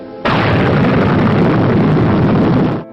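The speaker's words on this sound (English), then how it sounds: "The H-bomb was detonated at Eniwetok." An archival recording of a hydrogen bomb detonation at Eniwetok: a loud, sustained roaring blast that begins abruptly and rumbles steadily for nearly three seconds before cutting off.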